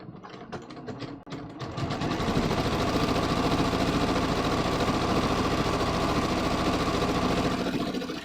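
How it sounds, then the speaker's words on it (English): A sewing machine stitches through thin cotton fabric, first a few slow separate stitches and then a fast, steady mechanical whirr with clicking needle strokes, close and continuous for several seconds before it slows at the end. "Then we're just going to start stitching."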